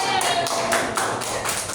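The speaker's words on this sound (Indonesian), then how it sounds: "Beri tepuk tangan." Classroom applause for a student group finishing a presentation during a microteaching simulation: a dense run of quick hand claps lasting under two seconds, close and fairly loud.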